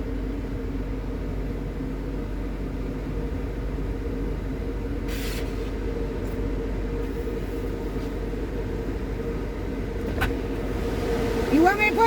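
An automatic car wash conveyor pushes a car through the tunnel, giving a steady low mechanical rumble and hum with faint squeaks and clanks near the end, heard from inside the car.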